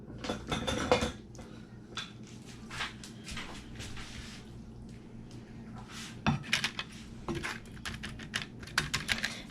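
A spoon scoops a hamburger meat mixture into a lasagna dish for a venison lasagna, making close, irregular clinks, taps and scrapes against the dish with short pauses between them.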